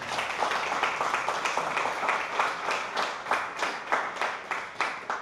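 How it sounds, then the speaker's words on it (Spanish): A church congregation claps in a mildly uneven rhythm, a moderate wash of hand claps with soft pulses, sustained for several seconds without speech. "¿Por qué no le das un aplauso al Señor por eso?"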